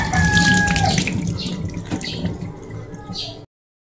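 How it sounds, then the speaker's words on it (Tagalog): Tap water runs steadily while ginger is washed under it in a home kitchen, a broad splashing hiss that stays loud for about three seconds and then cuts off, with light handling clatter mixed in. "Sa atin pong hugasan na po lang itong luya."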